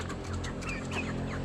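Hens clucking in a small backyard flock, a short run of soft, repeated clucks over steady low background noise.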